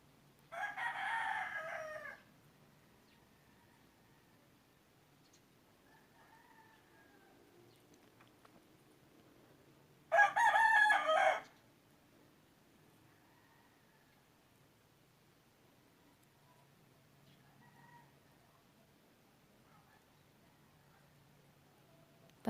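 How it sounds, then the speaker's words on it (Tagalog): Roosters crowing at a distance, two separate loud crows spaced several seconds apart over a quiet rural background with faint rustling. "Parang piyesta yung mga manok."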